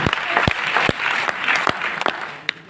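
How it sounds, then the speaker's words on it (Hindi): A seminar audience applauds for a guest in a lively, dense burst, with several sharp louder claps standing out near the microphone over the crowd's steady clapping. "ताली बजाओ गोरखपुर जी के लिए"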